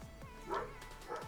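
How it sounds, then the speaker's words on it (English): Small dogs barking and yipping at moderate distance in a few quick, uneven bursts, with a steady low hum running underneath. "when you hear the small dogs bark"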